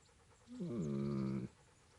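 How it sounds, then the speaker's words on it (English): A dog in the medieval role-playing game Kingdom Come: Deliverance gives a single close, clear burst of panting-like vocal sound lasting about a second, with quiet background before and after. "There's the good doggy."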